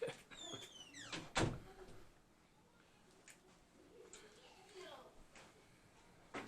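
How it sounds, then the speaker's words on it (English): A door pulled shut with a single sharp thump indoors, followed by quieter room noise and a few small knocks while a person talks before the door closes. "Let's shut the door."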